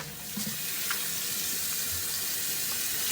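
Butterfish laid into hot oil in a pan for Jamaican fried fish gives a steady, dense sizzle, close and continuous, with a few faint clinks.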